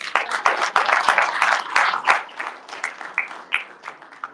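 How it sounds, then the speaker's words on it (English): At the opening ceremony of Tamil Heritage Month 2025, the audience claps for the event's sponsors; distinct individual claps start fairly strong, then thin out and fade over roughly four seconds. "I ask for a round of applause for our generous sponsors."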